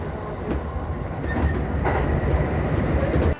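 A Tokyo metro train runs along its rails with a steady low rumble and rhythmic clatter, faint squeals over it, close and continuous, with no voices.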